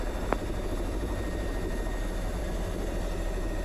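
A steady, distant Robinson R44 helicopter drone hums evenly in the background at an airport, low and continuous, with a brief sharp click near the start.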